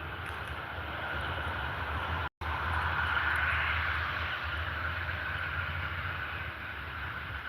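A distant passenger airliner, likely a Jetstar or Qantas jet, rumbles steadily after landing at an airport, a low continuous engine roar heard from afar with a brief dropout partway through.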